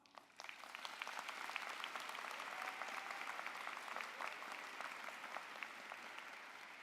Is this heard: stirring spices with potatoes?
no